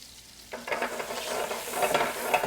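Shallots tossed into a hot pan where scallops were just seared, bursting into a loud sizzle that starts abruptly and keeps crackling with stirring scrapes, close by and with no voices.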